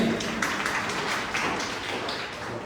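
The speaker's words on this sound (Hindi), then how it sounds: "जोरदार तालियों से" Audience applauding to welcome a guest at a madrasa gathering, a steady wash of many hands clapping throughout at moderate loudness.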